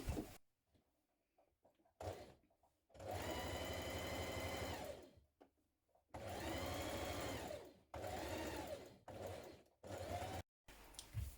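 A sewing machine stitches skirt pieces in several bursts of fast, steady whirring, each run lasting a second or two with short quiet gaps between, close and clear with no talk.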